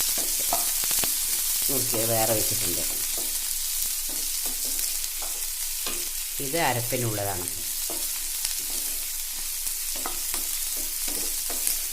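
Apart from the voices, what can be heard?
onions sautéing in a pan for egg roast paste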